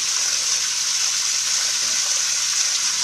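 Water pumped through a garden hose in a hoop house hydroponic setup gives a steady, even rushing hiss that runs unbroken and fairly loud throughout, with no voices.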